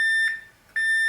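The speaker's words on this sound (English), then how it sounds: "I've got a continuity setting on my meter, which makes a beep if all is good." A multimeter on its continuity setting emits two steady, high electronic beeps, close and clear, separated by a short quiet gap while testing a Stratocaster's guitar jack wiring.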